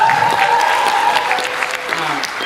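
An arts festival audience claps for poet Kat Evanstein, a continuous, even spread of applause from a crowd while a voice speaks faintly over it.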